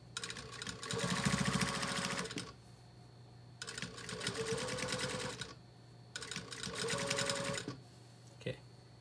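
Sewing machine edge stitching around a patch pocket, running in three steady whirring bursts of a few seconds each with short pauses between, close and clear.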